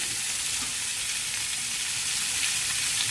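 Rosemary and garlic marinated lamb chops frying in a pan, a close, loud, continuous crackling sizzle with no talking.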